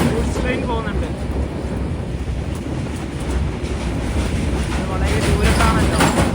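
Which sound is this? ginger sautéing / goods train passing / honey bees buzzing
goods train passing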